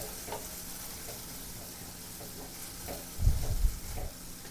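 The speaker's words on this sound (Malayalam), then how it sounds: "ഇതൊന്ന് ചെറുതായിട്ട് മൂപ്പിച്ചെടുക്കാം" Ginger, shallots, garlic and green chilli sautéing in a pan: a continuous close sizzle with light stirring scrapes, swelling into louder, busier frying and clattering toward the end.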